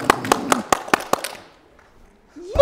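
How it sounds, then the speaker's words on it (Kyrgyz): Several sharp hand claps at a Kyrgyz couples' game show, a quick uneven burst of about seven close, loud claps that then stops, leaving near silence before a voice begins at the very end. "Кол чаап коелу гана."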